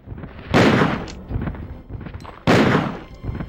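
Two heavy magnum gunshots from Resident Evil 2 on the Nintendo 64 boom out a couple of seconds apart, each sharp blast followed by a rumbling tail.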